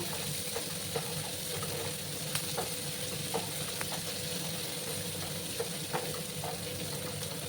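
Chopped onions fry in a pan, a steady, even sizzle with faint intermittent scraping clicks from stirring, close and moderately quiet.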